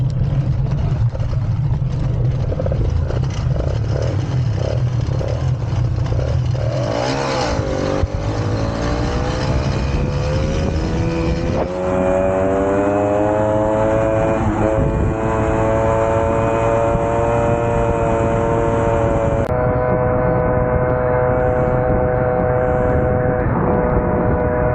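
A stock moped fitted with a Derbi exhaust pipe revs steadily, its engine tone rising and falling in pitch over sustained, loud running with no talk.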